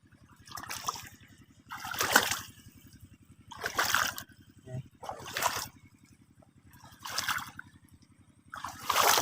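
Water is poured onto bitter gourd (ampalaya) plants growing in dry soil in repeated splashing bursts, each a second or so long with short pauses, over a constant low mechanical hum.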